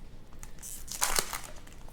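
Foil wrapper of a 2024-25 Upper Deck SP Authentic hockey card pack being torn open up close, a brief crinkling rip that peaks in the middle of a quiet moment, with no talking.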